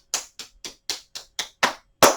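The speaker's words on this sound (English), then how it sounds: "Clap those hands." A single person claps their hands eight times in a steady, crisp rhythm during a seated chair tai chi exercise session, the last clap landing slightly harder.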